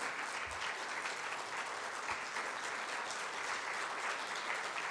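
A church congregation claps steadily for the whole stretch, a dense and even wash of applause with no break and no audible speech.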